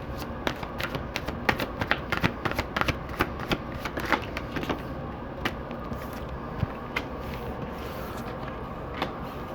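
Tarot cards shuffled steadily up close, a dense run of crisp riffling clicks and slaps that continues without a break, with no voice over it.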